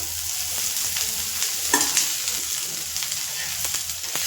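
Onions roasting in a little oil in a pan, a steady close sizzle with scattered stirring clicks and scrapes, fairly loud and continuous.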